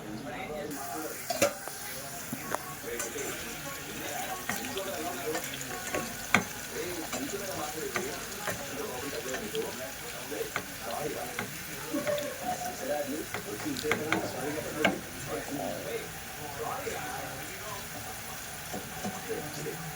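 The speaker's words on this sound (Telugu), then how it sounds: "ఇప్పుడు మూత పెట్టేసుకుందాం ఇలా మగ్గనిస్తూ ఉండాలి కాకరకాయని" Bitter gourd cooking in a covered pan: a continuous soft sizzle and bubbling with scattered utensil clinks and scrapes, while a voice talks intermittently over it.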